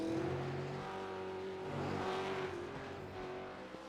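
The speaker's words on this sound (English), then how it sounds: "we're watching Daniel Gray go over Skyline, hard on the brakes, keeping it very neat" V8 race cars at Mount Panorama, braking over Skyline, give a loud, steady engine roar. The pitch shifts slightly as the cars slow and pass, with no talk over it.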